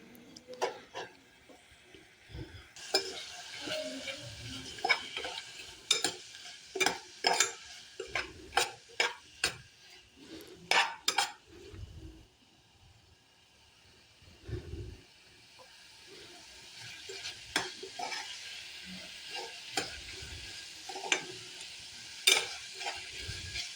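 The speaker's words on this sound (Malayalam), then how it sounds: "ഇനി നമുക്കിതിലേക്ക് കുറച്ച് വെളിച്ചെണ്ണ ചേർത്ത് നമ്മൾ നേരത്തെ ചെറുതായി കട്ട് ചെയ്ത് വെച്ച പട നമുക്ക് ഒന്ന് നല്ലോണം വാട്ടിയെടുക്കാം" Chopped pieces sautéing in coconut oil until browned, with a bright hiss of frying and repeated quick scraping strokes of a spoon against the pan in clustered bursts, then a softer stretch of plain sizzling before more stirring.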